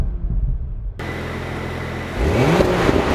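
A 2019 Porsche Macan S engine in Sport Plus mode revs up toward 4,000 rpm, a close mechanical whir building into a louder, rising exhaust roar with no talking.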